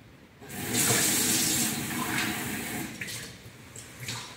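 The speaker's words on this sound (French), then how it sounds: "je vais remplir un verre d'eau du robinet non filtrée" Unfiltered tap water runs from a faucet into a glass, a steady close-up splashing pour that rises quickly, holds, then tapers with small trickles and drips.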